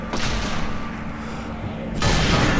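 Sniper rifle shots in the video game Sniper Elite 3, a loud sustained boom with rumbling low end, swelling again sharply near the end as a second blast hits.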